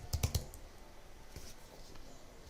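A computer keyboard gives a quick burst of three or four close keystrokes at the start, followed by a soft, steady background hum with faint clicks.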